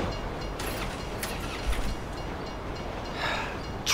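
A train rolls past in the GTA 5 video game during a chase, a steady close rumble and rattle of rail cars with brief higher squeals, no talking.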